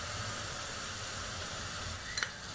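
Sour yogurt stirred into spices frying in a pan on a very low flame for a Bengali rohu fish curry, a steady soft sizzle throughout with a brief clink of the spoon near the end.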